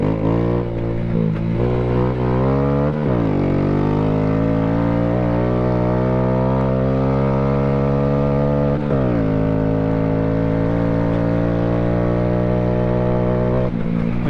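Honda Grom King Kong motorcycle revving hard off-road, its engine climbing steadily in pitch through several gear shifts with brief dips between them, loud and close throughout.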